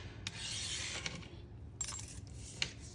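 A metal paper clip handled while cash envelopes are stuffed, giving close, faint scrapes and small metallic clicks, with a few sharper ticks and a brief jingle toward the end.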